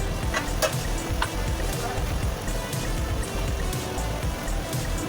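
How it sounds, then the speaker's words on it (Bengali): Chicken frying in a pan with ginger garlic paste, stirred steadily with a continuous low sizzle under background noise and occasional sharp scrapes of the utensil. "মাংসটা ভালো করে কষিয়ে নিচ্ছি।"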